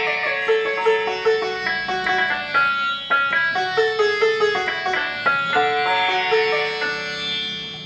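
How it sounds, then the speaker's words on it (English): Sitar voice on a Casio CTS-195 electronic keyboard playing a melodic run of plucked, twangy notes with buzzing overtones, steady and close with no talking. "we're going to start with the sitar, and it sounds something like this"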